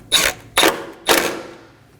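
A bolt is snugged down on a sensor mounting bracket of a 2020s Toyota Corolla during a front wheel speed sensor replacement, giving three sharp, close ratcheting clicks about half a second apart, each fading quickly.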